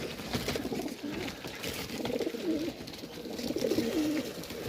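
Racing pigeon cocks coo repeatedly while driving hens in a loft, a steady overlapping chorus of low, throaty rolling coos close by, with no talk.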